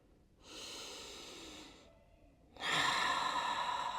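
Two long, deep breaths during a yoga flow, one slow inhale followed by a louder, fuller exhale, close and breathy with a short pause between them.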